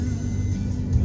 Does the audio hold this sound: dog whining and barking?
no